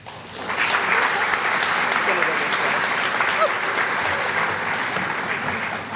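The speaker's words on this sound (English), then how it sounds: "Ladies and gentlemen, let's give these students another round of applause." An audience at a school awards program applauds honored students, clapping swelling in after a brief quiet start and holding steady as a broad, continuous crowd sound with faint voices underneath.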